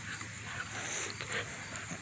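A dog whimpers softly at close range, a thin, steady whine over a noisy background, with no talking.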